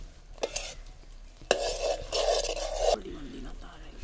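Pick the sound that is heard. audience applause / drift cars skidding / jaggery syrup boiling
jaggery syrup boiling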